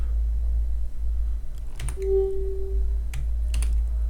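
A few sharp key clicks sound on a computer keyboard during a shortcut press while editing in Audacity, close and brief, set against a low steady hum and a short tone.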